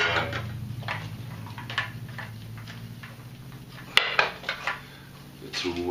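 Metal mess tins from a camping cook kit being handled, with several light clinks and taps scattered over a low background hum, growing busier with a sharp clack near the end.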